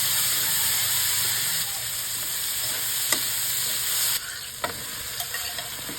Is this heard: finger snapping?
no